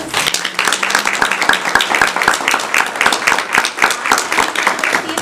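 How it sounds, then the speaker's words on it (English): An audience at a school board meeting claps steadily in a moderately loud round of applause, individual claps distinct and rhythmic, lasting about five seconds. "Can we give them a big round of applause?"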